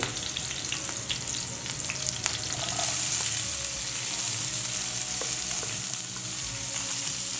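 Green chillies and onion fry in a pan for an upma made with jowar, giving a continuous close sizzle with light stirring scrapes and small pops throughout, growing a bit louder midway, with no voices.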